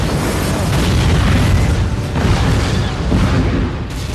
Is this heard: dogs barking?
no